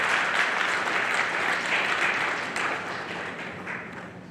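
An audience at an Haitian honors ceremony breaks into sustained, dense applause that holds steady and then slowly thins toward the end.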